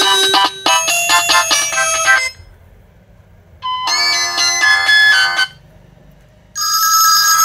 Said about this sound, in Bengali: ফোনটিতে কিন্তু 4টা রিংটোন ছিল, একদম উচ্চ সাউন্ড এই ফোনটিতে পাচ্ছেন